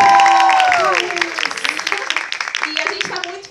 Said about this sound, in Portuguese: Então, palmas pra vocês.